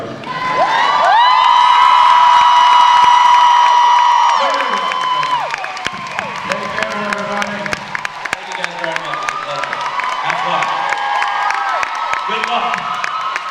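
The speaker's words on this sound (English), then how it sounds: "please applaud off the stage our youngest brother" A live audience at a Jensen and Jared stage event claps and cheers loudly and steadily under a voice shouting and speaking over the crowd.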